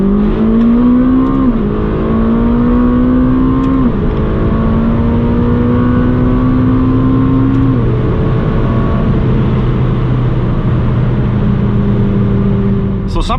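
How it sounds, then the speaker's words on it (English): A McLaren 570GT with 570 hp accelerates hard from 100 to 200 km/h on the Autobahn; the engine note climbs through several gears with clear drops at each upshift, heard loud from inside the car over a steady road roar. "let's get this 570 GT on the Autobahn and see how our 570G now compares"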